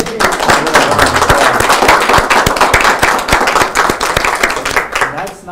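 A crowd applauds steadily for several seconds, dense clapping with some sharper individual claps standing out, fading slightly at the end.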